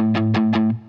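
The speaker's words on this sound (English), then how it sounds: "So I put a bit of distortion on, a bit of gain." A brief distorted electric guitar riff from a song: a sustained droning tone with three quick rhythmic stabs, cutting off abruptly.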